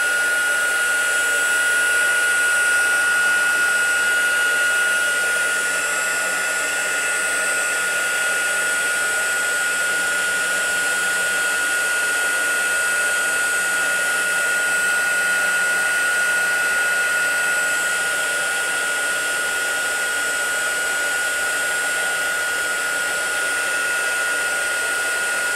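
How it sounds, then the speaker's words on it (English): A handheld heat tool blows steadily and loudly, a continuous airy whir with a high whine, as it melts embossing powder on a stamped card image, holding nearly constant for the whole stretch without talk. "we bring our heat tool over again and go ahead and heat this image up and melt our embossing powder"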